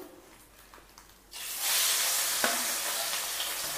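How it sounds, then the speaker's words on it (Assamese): Rohu fish pieces hit hot oil in a pan and start a loud, steady sizzle and hiss, close by, after a quieter start. "লগতে মাছ ফ্ৰাই কৰোঁ এয়া ৰৌ মাছ"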